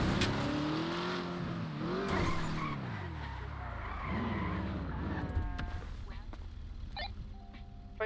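An Acura NSX in GTA V skids with drawn-out, wavering tire squeals and engine revving. The sound is loud and close, with voices talking over it and engine tones continuing afterward.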